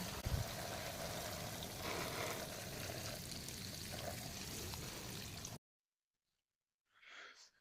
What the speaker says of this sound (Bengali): পাতাতে এবং মাটিতে ভালো করে জল দেবো